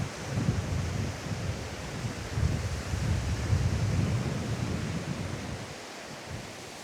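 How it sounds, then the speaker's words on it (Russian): Waves break and wash up on a shore, a steady broad roar of surf with rumbling low surges and no voices, fairly close. "Волна аж сюда пробивает."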